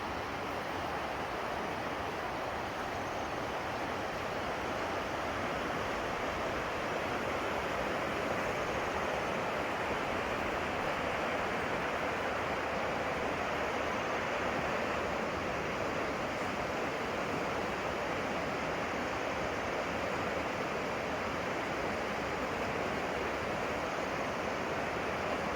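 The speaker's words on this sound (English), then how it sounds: "The sound of the river." A river flows beside a forest trail in steady, continuous broadband rushing water, loud and close with no pauses, heard alone throughout.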